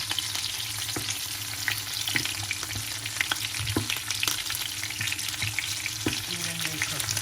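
Stuffed chillies, bharwa mirchi, fry in a pan with a dense, even sizzle close to the mic, broken by occasional light taps and turning noises as they are moved; no voices.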